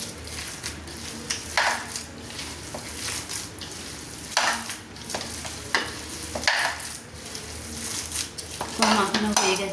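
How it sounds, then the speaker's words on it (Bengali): Onion pakora batter is mixed by hand with added water, producing wet squishing and stirring with intermittent scrapes and clinks against the bowl, close and continuous. "আবার একটু জল দিচ্ছি দিয়ে ভালো করে মাখিয়ে নিচ্ছি"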